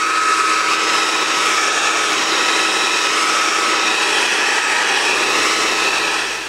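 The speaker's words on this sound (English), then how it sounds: "you can use a hairdryer on the hot setting" Hair dryer running on its hot setting, a loud, steady close-up whine and rush of blowing air with a constant pitch, held without pause and tapering slightly at the very end.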